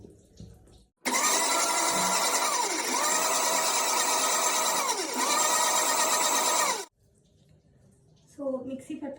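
An electric mixer grinder blends carrots with a little water for juice, a loud steady whirring motor that runs continuously for about six seconds, its pitch dipping and recovering in repeated cycles, then stops, followed by faint clatter and brief talk.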